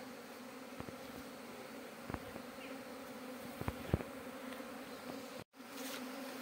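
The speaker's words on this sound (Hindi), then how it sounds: "क्योंकि स्वार्म लग रहा है मेरे को 4-5 फ्रेम का है, वैसे काफ़ी बड़ा" A large swarm of honeybees, roughly four to five frames in size, trying to get into a weak colony's hive outdoors, giving a steady, moderately close buzzing drone with a few louder passing buzzes and a brief dropout near the end.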